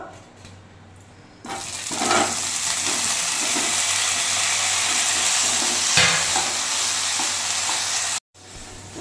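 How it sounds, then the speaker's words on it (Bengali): Potatoes sizzling loudly in hot oil in a pan, a steady close frying hiss that begins abruptly after a quieter opening and runs on with occasional stirring scrapes before a brief cut. "এই তেলেই আমি আলুটা দিয়ে দেবো"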